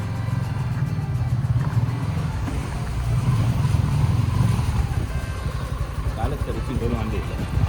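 A steady, rumbling motorcycle engine heard from the pillion seat runs throughout at a constant drone, close by, with wind noise and no clear breaks.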